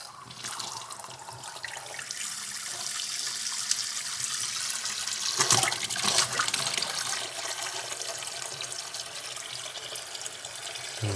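Water gushes steadily from a newly installed bathroom faucet into a sink, a continuous close hiss of running flow with a brief louder surge midway, as air sputters out of the supply lines.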